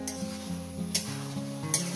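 Chicken pieces frying in cooked-down masala for a desi chicken and potato curry, a steady close sizzle with three brief scraping stirs spaced through it.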